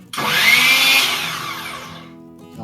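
A DeWalt DCS361 cordless miter saw motor whirs up sharply, runs at high speed for about a second, then winds down and fades, close and loud.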